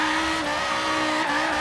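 Tyres squeal continuously as a Viper V10-powered Rocket Bunny RCF drift build slides along a highway in sixth gear in Forza Horizon 3, the screech riding over a loud, steady engine roar.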